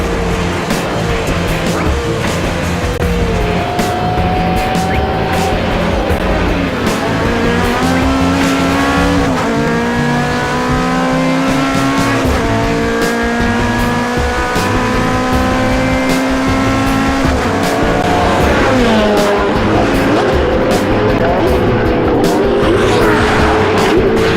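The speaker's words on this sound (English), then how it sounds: "it was Ross Lilly in the Lamborghini Gallardo who started for a pole position and had a fantastic rolling start leading into turn 1" Lamborghini Gallardo and Ferrari F430 race cars in the Pirelli GranTurismo Championship at Calder Park roar at full throttle, with several engines overlapping and rising and falling in pitch through gear changes, loud and continuous with brief tire squeal.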